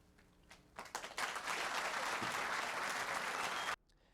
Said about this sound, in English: And as you heard, there was applause at the end of that.